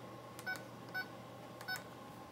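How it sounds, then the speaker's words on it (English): Kitchen oven timer being set, three short electronic beeps spaced at a slow, even rhythm over a quiet room background. "So I'm going to put the timer on"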